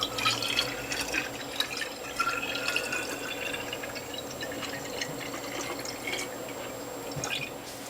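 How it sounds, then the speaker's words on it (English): Citrus ginger juice from a Norwalk press juicer is poured into bottles, giving a steady liquid trickle with scattered drips and splashes that continues throughout and sounds close. "I'm going to fill the rest of these bottles"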